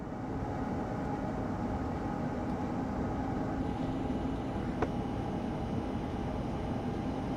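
An Amtrak ACS-64 electric locomotive in Train Sim World 6 powers up with a steady, broad rumble and hiss of rolling and traction noise, holding even throughout with one faint sharp click partway in.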